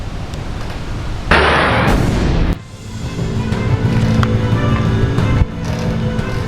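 Explosions during a US strike on Tehran, caught on CCTV at shops and a car workshop: a sudden loud blast lasting about a second, followed by a lower rumbling roar and another jolt of noise later.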